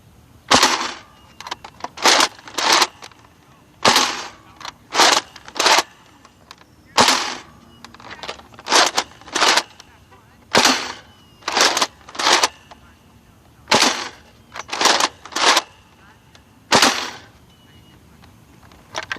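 A modified Nerf Mega Centurion blaster fires in repeated sharp bursts, each shot a loud close snap with a mechanical clack as it is primed, spaced a second or two apart in a steady sequence.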